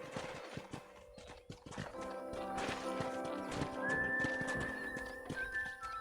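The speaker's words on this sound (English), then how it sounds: "let's see if you can still ride a horse" Horse hooves clip-clop at a steady riding pace in the Red Dead Redemption game on PS3, with a neigh and game music tones rising over them, no talking.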